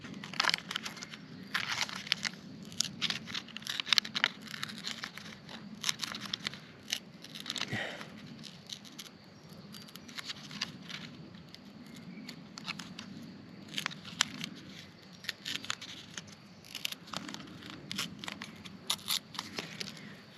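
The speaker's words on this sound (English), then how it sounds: "We're gonna need to rip it." Foil-backed paper wrapper being ripped by hand in an outdoor bushcraft setting, a long series of quiet crinkling tears and crackles in uneven bursts, close and faint with no talk.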